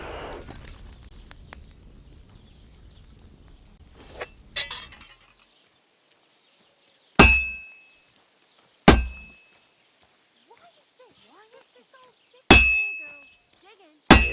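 A hammer striking hot metal on an anvil at a forge in Kingdom Come Deliverance 2: four loud, ringing metallic clangs spaced a second or two apart, each ending in a bright lingering ring, after a stretch of low background noise.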